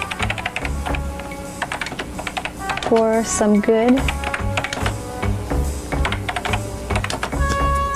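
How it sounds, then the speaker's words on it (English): Rapid, irregular keyboard typing runs through a mid-1990s computer scene, clicking steadily beneath music and a person talking over it. "You hear typing sounds?"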